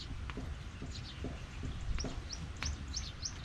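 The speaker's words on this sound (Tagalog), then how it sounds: "Lapitan na yung mga ibon, no?" Birds chirping on a Filipino farm, with short bright tweets and call notes scattered across a few seconds over low outdoor rumble, some near and some farther off.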